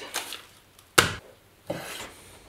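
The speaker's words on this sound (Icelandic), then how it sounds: "Ég ætla að byrja á því að skera kjötið." Sharp knife slicing beef for tartare on a board, three soft strokes with one crisp sharper cut in the middle, close and quiet.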